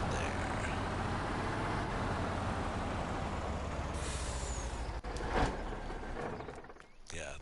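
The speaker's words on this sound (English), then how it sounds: "Yeah, that truck is cool. I like that one. I like the way it sounds, too. All military truck type of deal." A military-style truck in Farming Simulator 19 runs its engine in a constant deep rumble, with a brief hiss and clunk near the end and what sounds like a voice faintly underneath.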